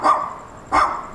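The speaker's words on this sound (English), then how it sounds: "Look at this dog, my gosh." A dog barks twice close by, two loud separate woofs with a short pause between them, and no talking.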